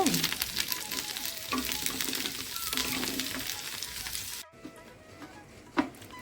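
Ivy gourd being fried for chutney in an iron pan gives a loud, continuous sizzle with stirring scrapes. It drops away sharply to a quieter crackle, broken by one short knock.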